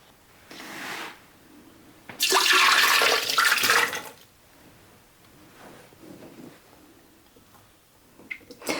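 Flavoured water is poured into a kitchen blender, making a loud splashing rush that lasts about two seconds, preceded by a brief splash and followed by quiet handling clatter.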